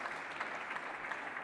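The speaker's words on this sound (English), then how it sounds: "I think that does deserve an applause." Brief burst of steady applause from a conference audience at a NATO talk, an even, crowded patter of clapping sustained without a break and with no voices over it.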